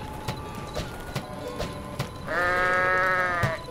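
In the video game Goat Simulator, soft clip-clop steps give way to a single loud, drawn-out sheep bleat near the end, heard alone without talk.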